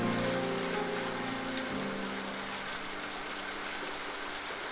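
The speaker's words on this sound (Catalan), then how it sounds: "Encara estava plovent molt." Heavy rain pours steadily in a continuous, even hiss that fills the stretch, while a low tone at the start fades away and leaves the wash of rain on its own.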